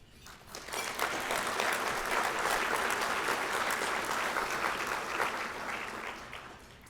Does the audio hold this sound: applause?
yes